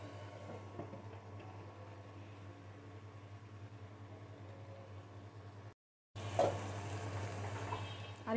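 Spice masala for beef liver bhuna frying in a pan, a low continuous sizzling hiss heard up close, briefly cutting out before resuming with a small clatter, no voices.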